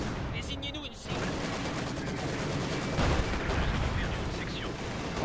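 Dense battlefield din of machine gun and artillery fire in Company of Heroes 2, continuous rattling shots and booms, fairly loud throughout with voices talking over it.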